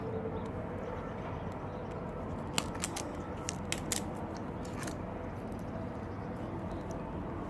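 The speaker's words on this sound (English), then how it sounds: "Since these connectors are bad anyways, I'm just going to cut them off." Snips cutting faulty wire connectors off the fuel float assembly of an EBR 1190 motorcycle: a handful of sharp, quiet clicks in the middle, heard close over a steady low background hum.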